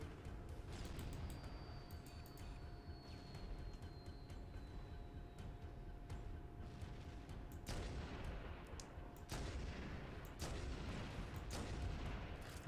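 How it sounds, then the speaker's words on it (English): Rifle fire in the Halo video game, sharp shots and bursts of gunfire against a rumbling, busy game soundscape, several reports clustered near the end. "the sniper rifle is not a good weapon against the Flood"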